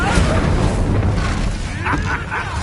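An Incendio fire spell in Hogwarts Legacy erupts in a loud, booming burst of flame that rumbles for a couple of seconds, with faint higher crackles trailing at the end.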